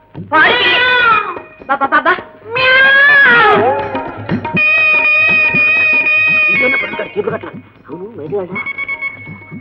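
A cat in a Telugu family drama film scene gives two drawn-out, wavering meows up close, followed by people talking over faint background music.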